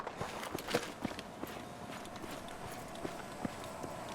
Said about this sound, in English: Footsteps too.